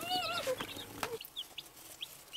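Baby chicks peep in a box at home, giving a few short, faint high chirps in quick succession, with quiet pauses between them.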